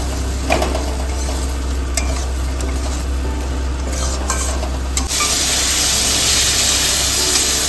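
Eggplant and two green chilies fry in a pan for a Bengali rohu fish curry with lentil dumplings, a steady close sizzle with stirring scrapes and clinks, growing louder and brighter as more hits the oil near the end.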